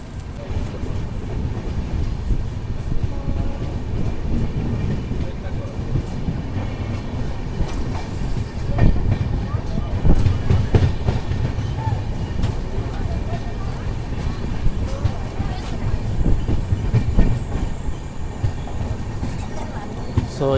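The Seven Hills SF Express rolls along the rails with a steady rumble, rattling carriages and occasional clicks from the track, heard continuously with some wind buffeting the microphone.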